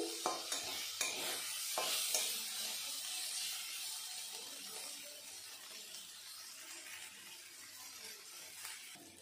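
Mashed flat beans for sim vorta frying in a pan, a steady close sizzle with scraping, stirring strokes of a spatula, fairly loud and alone.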